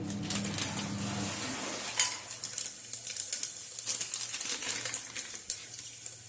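Whole spices crackle and sizzle in hot oil in a kadai, with scattered sharp pops and a light clink of a pan.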